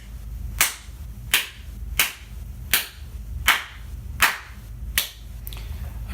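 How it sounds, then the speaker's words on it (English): Seven sharp hand claps, evenly spaced about two-thirds of a second apart, picked up by an iPhone SE microphone outside a voiceover booth, each with a short room echo. "Clap test using the microphone on the iPhone SE."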